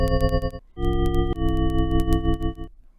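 A synthesized tone built from 12 stacked sine waves spanning 20 to 4000 Hz forms a bright, buzzing chord with a rapid fluttering pulse, heard alone in three bursts separated by brief gaps.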